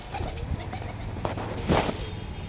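Teddy high-flyer pigeons on a rooftop, female birds among them, give soft intermittent cooing and rustling close by, with a brief louder flurry near the end and steady low background hum.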